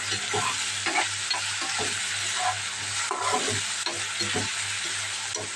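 Chopped onion sizzles steadily in hot oil in a pan as it is tempered for a tomato, prawn and ridge gourd curry, with soft stirring scrapes under a constant frying hiss and no voices.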